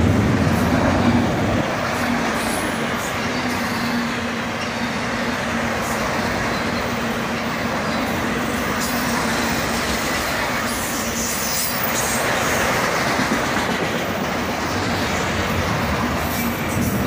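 Fully loaded CSX autorack freight train rolling past close by for the whole stretch, a steady loud rumble of rail cars with faint wheel squeal and clatter, no voices.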